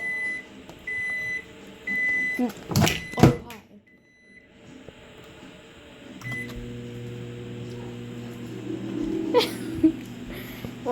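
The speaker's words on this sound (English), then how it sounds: "put it in for 45 seconds in the microwave" A microwave oven cooking eggs hums steadily for several seconds after a few sharp clattering knocks, with a short voice briefly speaking near the start.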